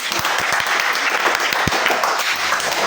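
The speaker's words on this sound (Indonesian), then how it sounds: "Beri tepuk tangan untuk teman kalian." Students in a computer science class applaud a classmate, a dense continuous round of clapping from a small group nearby, with some sharp individual claps standing out.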